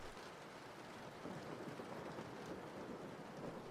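Steady, dense rain hiss played back from a recording fills the whole stretch, an even wash of falling drops with no pauses or voices.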